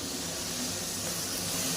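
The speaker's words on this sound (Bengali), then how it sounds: "ভোলা মাছটা ভাজা হচ্ছে।" Bhola fish frying in a pan, a steady, dense sizzling hiss that stays even and close throughout with no pauses.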